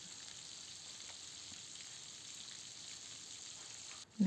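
Battered shrimp deep frying in hot oil, a soft continuous sizzle and crackle at low level, steady throughout, ending with a sudden louder knock or clatter.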